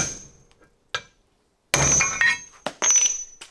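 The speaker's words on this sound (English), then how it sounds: "we're going to try a 1/2 inch thick steel plate right on the hub and a bigger hammer" A heavy hammer strikes a half-inch-thick steel plate set on the wheel hub of a 1974 Corvette Stingray barn find, landing three or four loud, sharp metallic blows with ringing clanks after a quieter first tap.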